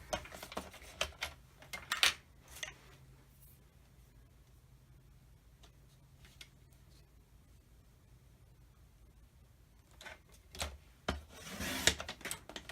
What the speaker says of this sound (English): I'm just going to trim this down so that I can get that little bit of gray frame